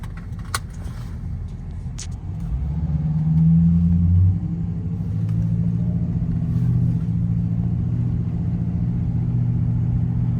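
Ford Crown Victoria with a Flowmaster exhaust idling close by after a tune-up with new spark plugs and coils, a steady low rumble that swells briefly around a few seconds in, then settles into an even drone.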